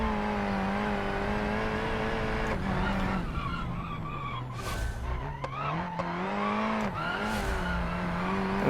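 A race car in BeamNG laps the West Coast Circuit, its engine droning and shifting pitch through corners while the tires squeal and scrub, steady and close throughout.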